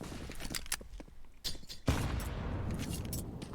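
A grenade bursts in a Counter-Strike match on the Inferno map, a heavy boom with a long rumbling tail following scattered sharp shots and clatter nearby.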